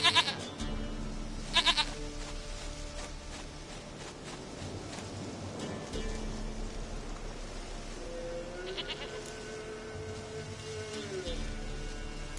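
A goat bleating in The Witcher 3: Wild Hunt, with several wavering nasal bleats spread across the scene over ambient game sound and some speech.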